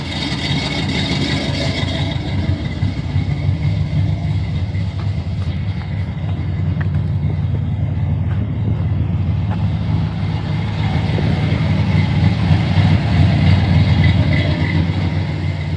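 A Chevrolet Corvette engine runs steadily and loudly throughout, a deep continuous idle rumble that swells slightly toward the end, with no talking.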